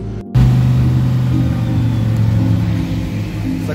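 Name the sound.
Porsche cars driving at Spa-Francorchamps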